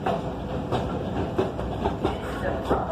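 A New York subway train on the Q line rumbles steadily along its tracks with faint rhythmic clacks and a broad low roar, fairly close, with no talking.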